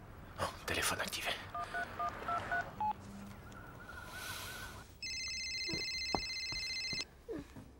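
A quick series of short keypad tones beeps out a number, followed by a low buzz and then a long, steady electronic ringing tone, with some background noise.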